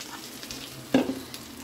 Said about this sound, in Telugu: పప్పులు ఉల్లిగడ్డ మంచిగా ఫ్రై అయినాయి. ఇప్పుడు రవ్వ వేసేద్దాం.